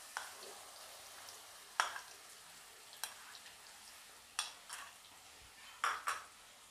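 Garlic paste goes into hot oil with tempered cumin seeds for a Maharashtrian garlic chutney, giving a soft steady sizzle broken by a few sharp clinks of a spoon against the pan, with no talking.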